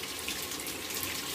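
Water runs steadily from a bathtub faucet during a home plumbing inspection, an even close rushing splash with no voices.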